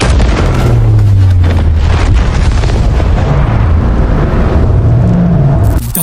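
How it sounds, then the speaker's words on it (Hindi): A loud, sustained rumbling roar of a huge port explosion in Bombay in 1944 fills the whole stretch, deep and dense, easing slightly before a final burst at the end. "4:32 में मुंबई के इतिहास का इतना बड़ा धमाका होता है"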